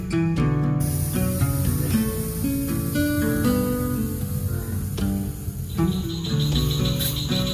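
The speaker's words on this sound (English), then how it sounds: "Wow, these southern cricket frogs are loud." Southern cricket frogs call in a dense, insect-like chorus after rain, the rapid clicking trills running steadily throughout beneath louder tonal music.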